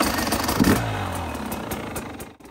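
A 2024 Polaris snowmobile engine fires up on electric start, a loud close motor clatter and rev that holds steady for a couple of seconds before cutting off abruptly.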